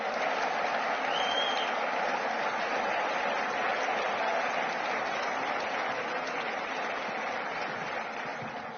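Steady, dense applause from a crowd at a political meeting in Guadeloupe, a continuous even wash of many hands clapping that holds strong for several seconds and eases slightly toward the end.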